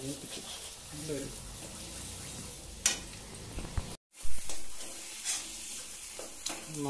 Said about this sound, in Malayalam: അപ്പോൾ നന്നായിട്ടൊന്ന് മൂപ്പിച്ച് കൊണ്ടുവരും.